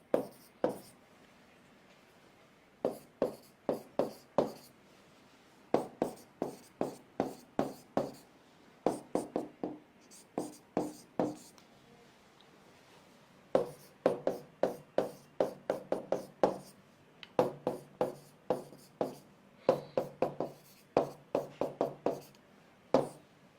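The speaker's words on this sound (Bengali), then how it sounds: "তো আমি লিখছি" Pen writing by hand on paper during a chemistry class, quick bursts of tapping, scratchy strokes in irregular groups with short pauses, close and clear, no talking.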